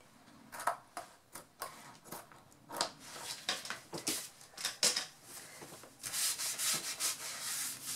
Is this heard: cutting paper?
yes